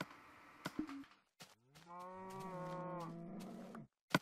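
A cow in a video game gives one long, drawn-out moo lasting about two seconds, preceded and followed by a few short clicks and thumps from gameplay.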